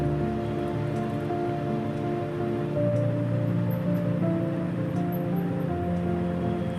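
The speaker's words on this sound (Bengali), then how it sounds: "অলরেডি বৃষ্টি দেখুন পড়তে শুরু করে দিয়েছে" A steady, gentle patter of light rain falls continuously, with soft scattered drips over a low background hum.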